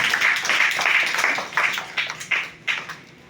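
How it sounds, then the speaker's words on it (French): A church congregation applauds God during a wedding service, a crowd's sustained clapping with bursts swelling and fading in irregular waves. "On va applaudir Dieu pour ça."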